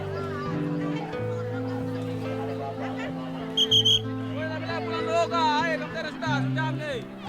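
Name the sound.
whistle marking the start of bartering at a market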